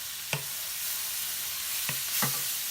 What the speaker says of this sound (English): Gonna go ahead and put some garlic, some minced garlic in here.